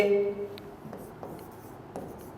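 Chalk or marker writing on a board in a classroom, quiet scratchy strokes in short bursts over a low room hum.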